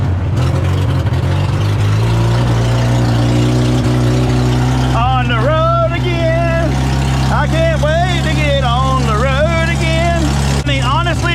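A Polaris Ranger UTV engine idles steadily and loudly up close with an uneven, missing beat after starting, while a voice talks over it in the second half.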